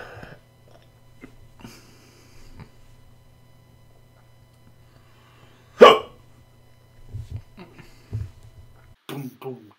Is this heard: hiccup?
yes